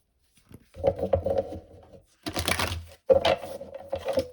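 Quick riffling and clicking of cards being shuffled nearby, in several short bursts separated by brief pauses.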